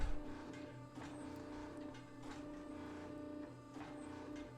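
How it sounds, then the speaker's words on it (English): A hydraulic forging press sets a forge weld in a nickel and steel billet for a Japanese-style blade, giving a steady mechanical hum with a low drone and faint rhythmic clicks at moderate distance. "we can go ahead and set the weld in the forging press"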